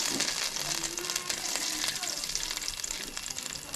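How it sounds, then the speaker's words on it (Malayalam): Two spoons of ghee sizzle and crackle in a hot, heavy-bottomed uruli for jackfruit halwa, a continuous bright frying hiss with small pops throughout, close by. "നമുക്ക് രണ്ട് സ്പൂൺ നെയ്യ് ഒഴിച്ച് വെക്കാം"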